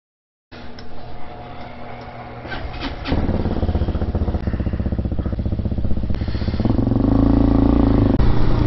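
An EFI RPS Hawk motorcycle starts up and pulls away, its engine idling at first, then settling into a steady, close running drone that grows louder and throatier as it gets underway, with no talking.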